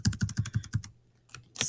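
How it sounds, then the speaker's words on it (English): Quick, close keystrokes tap on a computer keyboard in a short burst, followed by a pause and then a few more taps. "But for now, you can just type in"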